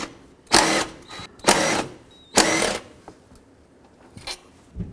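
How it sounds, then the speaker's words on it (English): A 10mm socket works loose the bolts and nuts holding the throttle body on a 2007-14 Chevy Silverado, giving three short, close ratcheting bursts spaced about a second apart, then a few faint clicks in a quiet garage. "with a 10mm socket, remove the two bolts and two nuts that hold the throttle body on"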